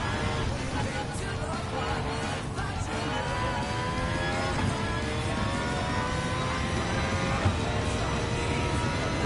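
An Aston Martin Valkyrie hypercar in Gran Turismo 7 holds full throttle, its engine a loud, steady high-pitched wail running unbroken with a slight pitch sweep.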